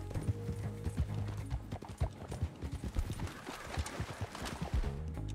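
Horse hooves clip-clopping in Red Dead Redemption 2, a steady galloping patter of thuds with a brief whinny, carrying over low music and ambient game sound.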